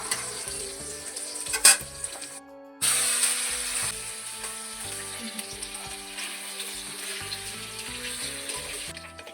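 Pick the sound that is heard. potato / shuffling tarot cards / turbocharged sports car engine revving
potato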